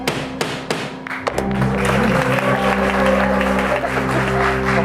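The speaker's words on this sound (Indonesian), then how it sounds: "Palu ketukan ketiga." A judge's gavel strikes in a mock courtroom on an Indonesian comedy show: several sharp, loud wooden knocks in quick succession, followed by sustained crowd applause and a music bed.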